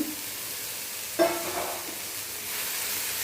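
Coriander stems sautéed with coconut, tamarind and ginger in a pan, a soft sizzle with a sudden stir or clatter partway through, close and moderately faint, no voices.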